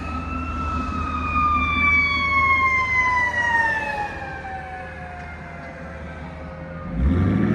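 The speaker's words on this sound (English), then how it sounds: "Wait on the ambulance." An ambulance's wailing siren sweeps downward over steady traffic rumble, loud and fairly close, with a vehicle engine surging near the end.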